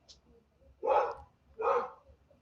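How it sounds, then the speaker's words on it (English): Two loud dog barks, evenly spaced about half a second apart, ring out over a quiet background. "Do you hear the dogs?"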